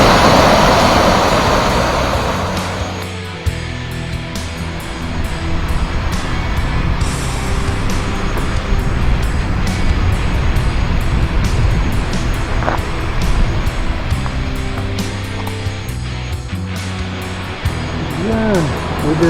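The Cascade du Sarthe waterfall in the Cantal mountains of Auvergne gives a loud, constant rushing roar of falling water that holds steady throughout, with a person talking briefly at times.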